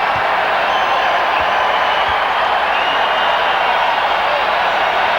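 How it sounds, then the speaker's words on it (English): A basketball arena crowd at a Chicago versus Miami game keeps up a loud, steady roar of cheering while doing the wave, with no break for its whole length. "Crowd is cheering here and making a lot of noise, John, because they are doing the wave."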